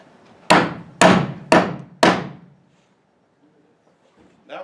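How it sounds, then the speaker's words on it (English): Four loud, sharp hammer strikes ring out about half a second apart, each with a short decaying ring, followed by near silence and a faint knock at the end. "That's a real hammer"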